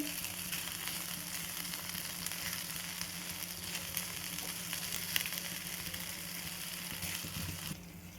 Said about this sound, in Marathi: याला छान भाजून घेऊत आपण जेणेकरून कच्चेपणा आहे तो निघून जाईल